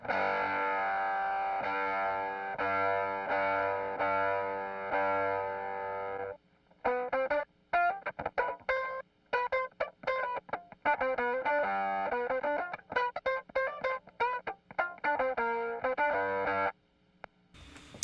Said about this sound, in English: If I lower it much lower, it gets a little more sputtery, kind of Velcro-y